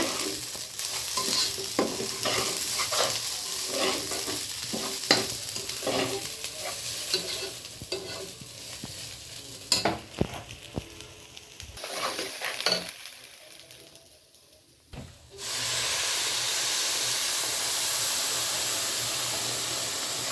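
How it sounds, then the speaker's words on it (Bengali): Rice frying in a pot for biryani, with a spoon stirring through the grains in repeated scraping strokes over a steady sizzle. Near the end a loud, even hiss takes over. "এখন বিরিয়ানির জন্য এই যে চাল ভেজে নিচ্ছে।"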